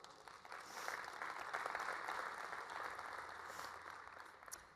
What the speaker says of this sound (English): Thank you to our sponsors, round of applause.